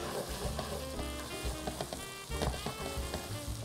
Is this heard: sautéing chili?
yes